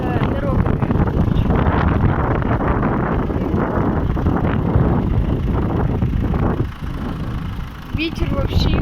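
Strong wind roaring and buffeting the microphone near a burning forest and factory in Kvitka, a steady rushing gust with low rumble throughout, as people talk beneath it.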